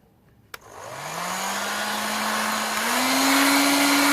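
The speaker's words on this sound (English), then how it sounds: "So the heat gun should smooth over the encaustic surface" A heat gun blows over an encaustic wax surface, switching on with a sharp click before its motor whine climbs and settles into a loud, steady rushing hiss that continues close by with no talking.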